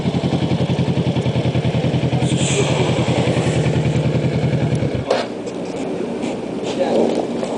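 A motorcycle engine idles close by with a steady rapid thumping pulse, then cuts off abruptly via the kill switch, leaving quiet outdoor ambience in an empty evening biker hangout.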